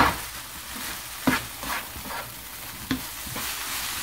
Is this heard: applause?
no